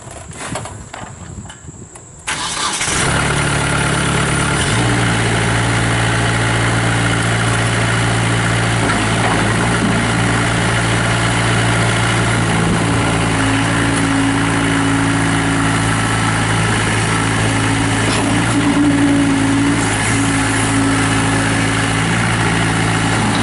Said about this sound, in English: fire this tractor up